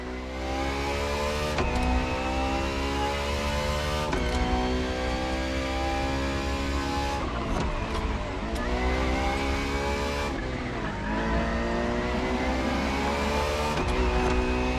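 Ferrari racing car engine in The Crew Motorfest, an extreme track-only R&D test car, revving hard through repeated upshifts, each high rising whine cutting off sharply before climbing again, loud and close throughout.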